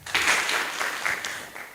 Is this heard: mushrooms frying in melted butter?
no